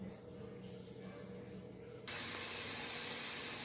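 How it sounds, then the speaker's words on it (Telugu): Tempering for sweet corn biryani sizzles in a pan. A low hum suddenly gives way to a loud, bright hiss of frying that continues steadily to the end. "పోపు అయితే వేసేసానండి."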